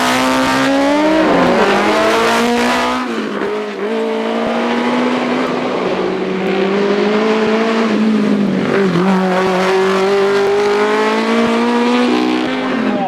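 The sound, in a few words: Ecos Imp racing car accelerating up Shelsley Walsh hill climb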